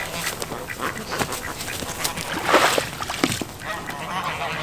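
A rescued duck quacks in short scattered calls with splashing around a small pool, close and moderately loud over steady background noise.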